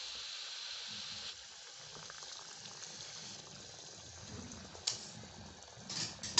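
Hot water is poured into a pot of maize dhido in a rural Nepali kitchen, making a continuous gushing, bubbling pour that grows louder toward the end, with no voices.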